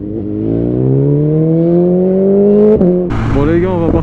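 A 2020 BMW S1000RR M motorcycle fitted with an Akrapovic exhaust accelerates hard, a loud, close engine note climbing steadily in pitch before a quick gear change and renewed rise.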